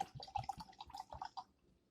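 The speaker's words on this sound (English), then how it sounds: "So let's go ahead and get a quick pour." Dark barleywine braggot beer poured into a glass, a brief soft splashing and gurgling pour with small drips, close and fairly quiet, fading out at the end.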